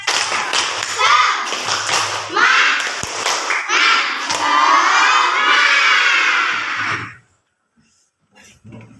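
Schoolchildren in a classroom perform a group clapping cheer, rhythmic claps mixed with loud shouted chanting for several seconds before it stops abruptly into near silence.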